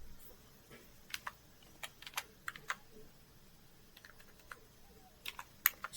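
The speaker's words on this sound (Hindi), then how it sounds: "यहाँ पे मैं टाइप करूँगा इक्वल की के साथ" Someone types on a computer keyboard while entering an Excel formula, giving a quiet, irregular series of separate key clicks with short gaps and a few louder taps near the end.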